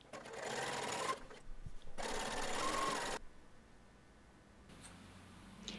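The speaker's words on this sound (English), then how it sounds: "I'll machine on the stay tape as I stitch the pocket opening seam." A sewing machine stitches stay tape onto a curved pocket opening seam of a shirtwaister dress in two steady whirring bursts, each about a second long, with brief pauses and quieter machine noise after.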